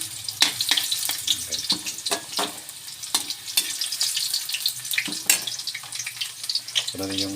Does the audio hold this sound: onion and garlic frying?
yes